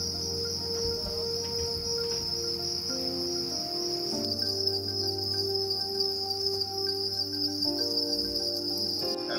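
Crickets, a species farmed for food in Madagascar, chirp in a steady, high-pitched drone, continuous and moderately faint, with a low hum beneath.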